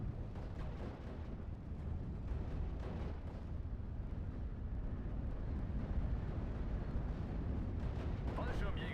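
Airstrike explosions in Steel Division: Normandy 44 keep up a loud, dense rumble of blasts and booming impacts across the whole stretch, with continuous battle noise and no clear gaps.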